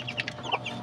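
Chickens cluck close by in a small backyard flock near the hatching pens, several short clucks in quick succession over a steady low background.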